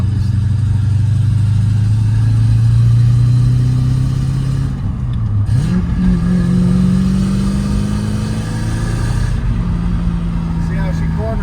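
Ford Thunderbird engine revving and accelerating on a mountain road drive, a loud droning note that dips, then climbs again as it pulls, heard from inside the car.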